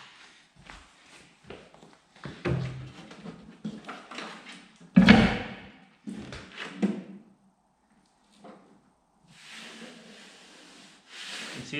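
A Ford Capri XPack 2.9 Cosworth Twin Turbo under restoration has its door handle worked and the door moved: scattered rubbing and clicking sounds, then one sharp clunk mid-way and a few softer knocks, close and without talk.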